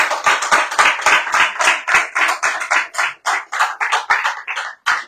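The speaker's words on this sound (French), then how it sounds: "Par anticipation, on peut applaudir notre Saligo qu'on aime bien." A few people clap in a radio studio during a French bistro-style broadcast, giving a close, loud, uneven burst of separate hand claps lasting about five seconds.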